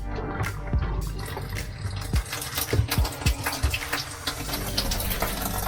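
Water runs from opened taps in a trailer being winterized, a steady gushing trickle broken by irregular sputters and gurgles as air clears the lines.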